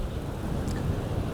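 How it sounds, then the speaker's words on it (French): Strong wind blowing outdoors on a summer day, a steady broad rushing roar buffeting close against the microphone, with no voices. "Le vent souffle fort"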